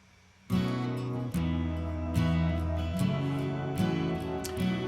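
After a brief quiet start, a lush, atmospheric synth pad swells in with layered backing music, sustained chords shifting every second or so.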